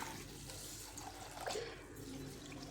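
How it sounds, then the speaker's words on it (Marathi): Kolam rice in a bowl being rinsed in water before soaking, giving soft, steady sloshing and trickling water sounds up close with a faint swish partway through, and no talk. "ह्याला आपल्याला आता धुवून घ्यायचं आहे"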